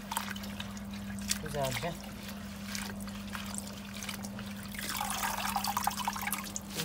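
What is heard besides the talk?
washing fresh mint leaves in water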